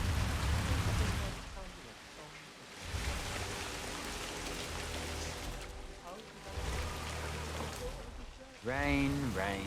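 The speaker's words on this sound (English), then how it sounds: "Rain, rain, nothing but rain." Steady rain hisses throughout in the video game Hitman 3, set in China, with faint low rumbles beneath and voices talking over it.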